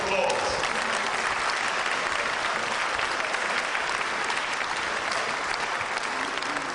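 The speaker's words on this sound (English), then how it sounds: "Give him a big round of applause." Audience applause after a speech by Togbi Kporku Dufia of Alakple, dense steady clapping from a sizeable crowd, loud and continuous throughout with no talk over it.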